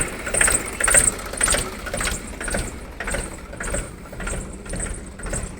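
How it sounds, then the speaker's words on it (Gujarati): A Mahindra 275 tractor engine idles nearby, its diesel note pulsing in a steady, even rhythm that eases slightly in loudness over the seconds. "કેમ છે અવાજ? મહિન્દ્રા 275 ભાઈ."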